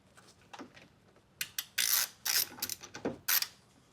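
Ratchet clicking in short bursts while loosening screws on a Tesla Model Y trunk hatch, close up, with quiet pauses between turns and no talk.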